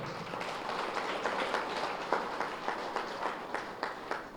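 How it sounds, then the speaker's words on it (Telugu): Audience at an anniversary gathering of a meditation pyramid claps steadily together, a moderately loud dense patter of hands with rhythmic bursts, no voices over it. "ఒకసారి గట్టి క్లాప్స్ కొడదాం"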